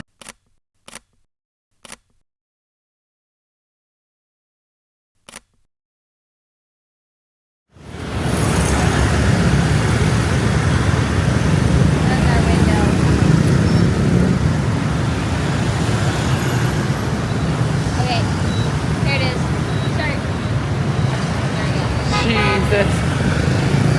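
A few sharp clicks, then a dense, continuous roar of motorbikes and cars crowding a busy street in Ho Chi Minh City, Vietnam, loud and steady to the end.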